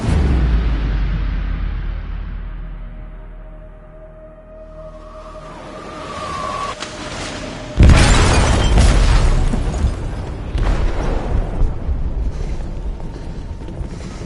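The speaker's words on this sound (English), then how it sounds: "They detonated an explosive in the hold. The ship is sinking, sir." An explosive goes off in a ship's hold in the game Detroit: a sudden loud blast midway, then a long rumbling roar of debris and groaning metal, after a quieter stretch of mechanical hum.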